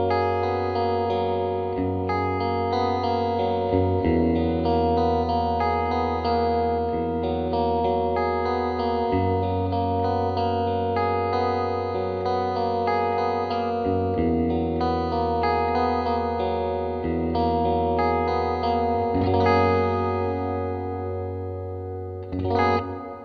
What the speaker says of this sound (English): So next up is the hall reverb